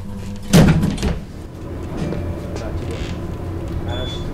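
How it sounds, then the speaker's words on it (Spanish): An elevator door closes with a loud thump, followed by a second softer knock and then a low mechanical hum. "Cerrando puerta."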